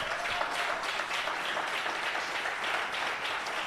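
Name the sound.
congregation applauding loudly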